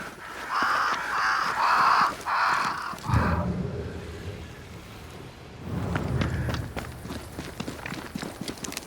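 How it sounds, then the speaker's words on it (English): Crows cawing in the game Banishers: Ghosts of New Eden, a run of four or five loud harsh caws, followed by rustling, thudding footsteps or hooves and scattered ambient noise. "Crows. They flock to that great tree up there."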